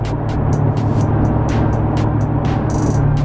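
Loud, steady rumble of a Dodge Challenger Scatpack 392 V8 fitted with DynoMax Race Bullets exhaust, heard close up with a deep throbbing idle pulse and sharp crackly pops running continuously for a few seconds.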